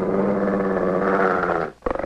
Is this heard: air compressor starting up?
no